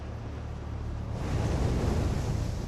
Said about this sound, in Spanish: Era una noche hermosa con el golpeteo de las olas y todo eso.